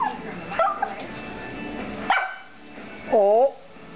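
A dog gives a couple of sharp barks and then a whiny, yipping bark, close by, with a person's voice talking around them.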